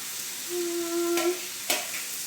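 An egg frying in a pan gives a steady soft sizzle, broken by a sustained tone partway through and a couple of sharp clicks near the end.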